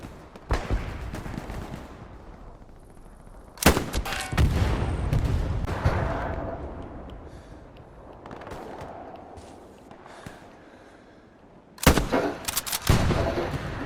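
Gunfire crackles in the World War II shooter Hell Let Loose, with several sharp shots and bursts, some close and loud, others fainter, separated by stretches of lower battlefield rumble.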